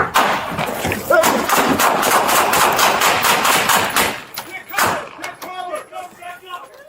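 Gunfire rings out during an officer-involved police shooting, a loud rapid burst of many shots for about four seconds, then one more report, followed by quieter clatter and movement.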